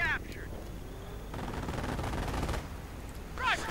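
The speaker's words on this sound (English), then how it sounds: "The auto cannon tearing through the light frame, not built to withstand such fire." An autocannon fires on a light vehicle in a WWII strategy video game battle. It comes as a dense, rattling stretch of rapid shots in the middle, with a voice heard briefly at the start and end.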